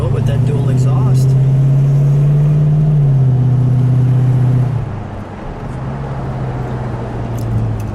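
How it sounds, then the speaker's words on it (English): A 1975 Dodge Charger Daytona 360 with dual exhaust idles nearby with a deep, steady rumble. The engine rises briefly, then drops back to a lower idle while a voice talks over it. "It's got a little rumble to it with that dual exhaust"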